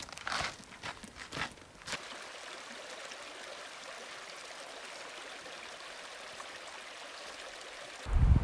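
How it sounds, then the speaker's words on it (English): Steady broadband hiss of rain pouring down in the backcountry between Upper and Middle Rae Lakes on the John Muir Trail, after a few brief rustling, crinkling handling noises at the start, with a louder close bump at the end. "It is raining on us"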